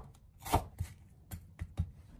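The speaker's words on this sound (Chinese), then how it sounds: "再把洋葱给它改刀切成洋葱丝" A knife chopping onion into strips on a cutting board: about five sharp, separate cuts at an uneven pace, close by and moderately loud, with no voices.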